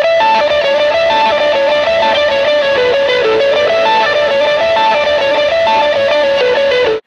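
An electric guitar run through a Kilt boost pedal that is switched on plays a sustained, driven melodic line with rich overtones, loud and steady throughout and alone without any voices.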